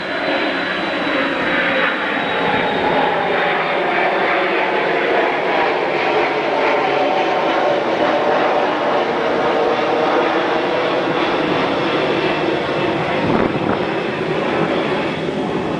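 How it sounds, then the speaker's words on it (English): A loud airplane roars steadily overhead near an airport, its engine drone filling the whole stretch with a slowly falling whine. "I'll wait for this plane to go over"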